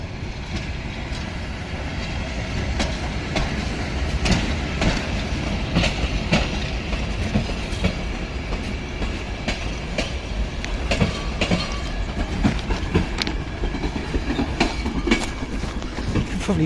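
A run-down freight train rolls slowly through an active rail yard in Bulgaria, its wagons rumbling with steady clickety-clack and occasional metallic clanks and squeals, loud and close.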